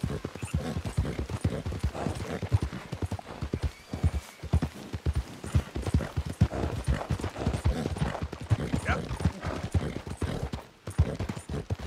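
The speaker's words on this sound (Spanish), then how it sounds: "Pone que yendo con pasado el caballo no se cansa" Steady, rhythmic hoofbeats of a horse trotting in the video game Red Dead Redemption 2, continuous and fairly close, with faint mechanical clicks and ambient game sounds underneath.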